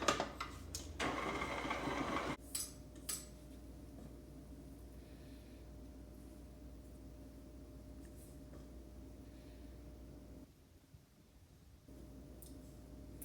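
An electric hand mixer beating Oreo cookie batter, a loud steady whir for the first couple of seconds, then a lower continuous motor hum that carries on to the end with a brief dip.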